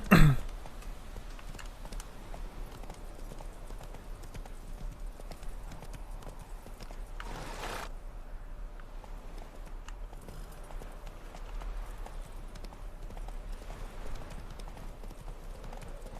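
Horse hooves clip-clop steadily in a video game, a continuous rhythmic patter of galloping hoofbeats running under faint background sound with a brief burst of noise partway through.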